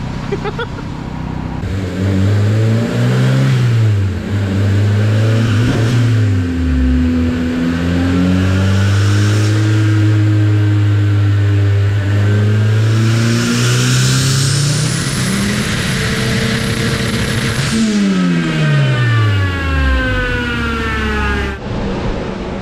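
A turbocharged K24a2 Honda Civic hatch on a dyno at 18 psi revs up in long, loud pulls, pitch sweeping high and dropping, with turbo whine rising near the top and a sharp fall-off afterward.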